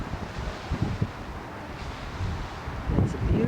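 Wind buffets the microphone outdoors on the University of Texas campus in Austin, with low rumbling gusts growing stronger near the end.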